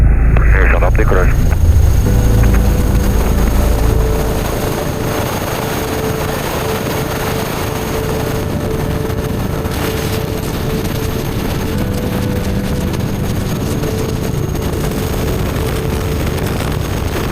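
Aircraft engines roar at full power during takeoff, a loud steady broadband rumble that eases slightly after the first few seconds, with cockpit voices talking over it.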